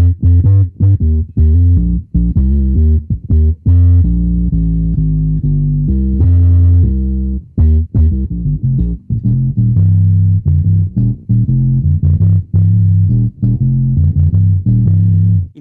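Bass guitar fed only through a processor, giving a deep analog-synth-style sub-bass, plays a steady run of loud, punchy notes with brief gaps, alone without any talking.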